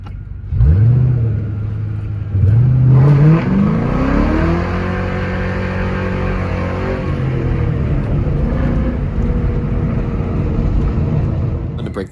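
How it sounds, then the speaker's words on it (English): A Ford Mustang Mach 1 engine revs hard and climbs in pitch as the tires break loose, then settles into a loud, steady roar that runs to the end, close and alone. "Break the tires loose a little bit, enjoy the Mach 1."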